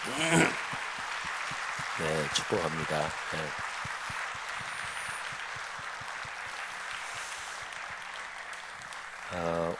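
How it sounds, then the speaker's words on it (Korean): Congregation clapping for a singer at a Korean Lent church service, steady applause running throughout while someone speaks briefly over it at the start and end. "우리 한번 박수 한번 하겠습니다."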